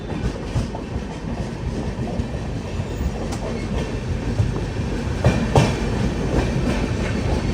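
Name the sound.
passing express train from Barauni to Ahmedabad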